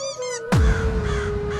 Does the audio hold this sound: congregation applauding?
no